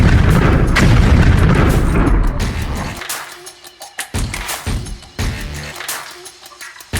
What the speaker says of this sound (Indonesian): saat dinamit-dinamit tersebut meledak di langit